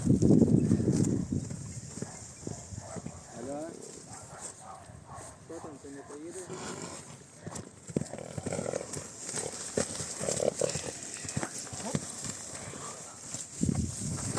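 Horses snort and shuffle outdoors, with hooves stamping now and then, while people talk nearby.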